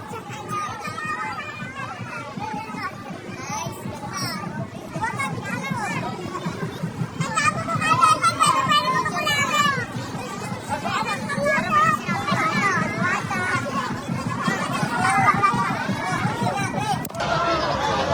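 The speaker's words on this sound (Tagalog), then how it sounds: "Grabe yung hiyawan ng mga tao." A dense crowd at a street festival event in Malabon fills the air with shouting, cheering and overlapping chatter, a steady roar that swells louder midway and stays close and busy to the end.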